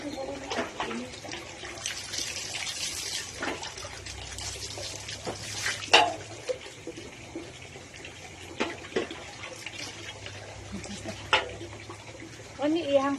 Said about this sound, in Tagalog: Maligo, mini Kobe